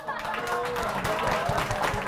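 An audience at a stand-up comedy show claps steadily and fairly loudly in a dense, continuous patter of many hands, with a voice talking faintly underneath.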